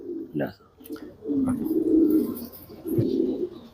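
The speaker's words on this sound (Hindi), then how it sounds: "फिलहाल आप ये देख लें नायाब नस्लों के कबूतर" Fancy-breed pigeons coo in low, throaty bursts, one short call followed by two longer rolling coos, close by in a quiet space.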